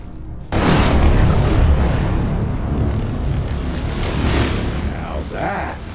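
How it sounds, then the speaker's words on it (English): A loud explosion bursts in the video game Evil West, a sudden booming blast followed by several seconds of heavy rumbling debris and roar, with faint voices near the end. "Now that is how you shape an explosion."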